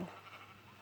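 A short, quiet sheep bleat from Minecraft, thin and slightly wavering, heard alone for under a second.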